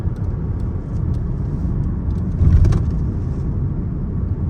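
An Oshan X7 facelift SUV with a turbocharged engine climbs a hill road, giving a steady low rumbling drone of engine and road noise that swells briefly midway, with no talk.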